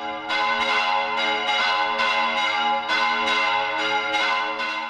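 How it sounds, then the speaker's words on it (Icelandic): Church bells rung across Spain in memory of COVID-19 victims, a steady series of loud, resonant strikes in an even rhythm with long ringing overtones. "Kirkjuklukkum var hringt víða Spán í dag til minningar þau sem hafa látist úr COVID-19"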